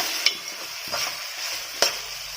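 Spoon stirring chicken drumstick curry in a pot, village-style cooking: soft scraping with three distinct clinks against the pot over a faint sizzle, close and quiet, no voices.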